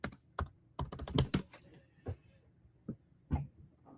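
Keys clatter on a computer keyboard in short irregular bursts of crisp clicks, some fast clusters and some isolated taps, close and fairly loud against a quiet room.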